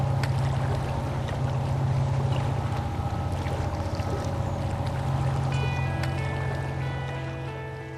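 Steady low engine drone of a ferry under way on Lake Geneva, with a constant hum and faint water wash throughout, no voices.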